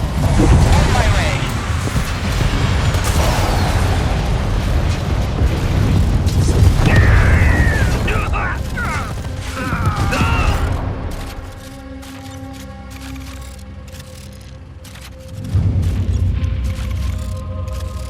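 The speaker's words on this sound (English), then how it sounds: "Airstrike inbound" Airstrike explosions in the strategy game Tempest Rising rumble as a long, heavy barrage of deep booms. A loud stretch fades into quieter mechanical rattling and then surges again, with game voices talking over it.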